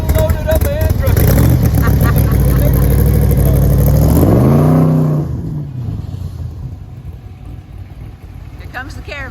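A caravan of vehicles (a Cobra, a Bug-Eye, a Porsche and a Cushman) pulls away: a loud, close engine drones and rises in pitch as it accelerates, then fades into the distance, leaving quieter ambient noise.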